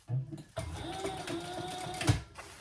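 Sewing machine top stitching a tote handbag, a short run of close mechanical whirring and rapid needle thumps that starts and stops within a few seconds.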